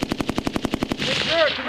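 A rapid burst of about nine loud machine gun shots from U.S. Marines on a live-fire exercise at Camp Fuji, Japan, fired in a tight rhythm and then trailing into a long rolling echo across open ground.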